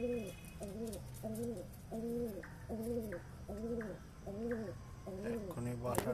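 Pigeons at a nest give a steady run of soft, wavering coos, about a dozen repeated in an even rhythm, close by over a quiet background.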